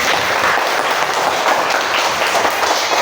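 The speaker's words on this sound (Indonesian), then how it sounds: "Kasih tepuk tangan." Students in a classroom clap together, a dense, steady, close burst of applause that holds at even loudness for its whole short length.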